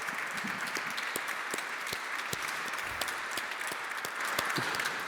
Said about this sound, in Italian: in modo particolare Silvia, però merita un applauso